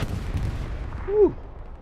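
Artillery fire in the console war game Hell Let Loose: a single muffled impact with a descending whistle-like tone near the end, over a low rumbling battlefield bed, fairly close and moderate in loudness.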